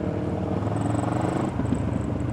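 A QJ Motor SRT 700 touring motorcycle engine running at low RPM makes a steady, deep throbbing rumble, continuous and close, with a faint high whine riding above it.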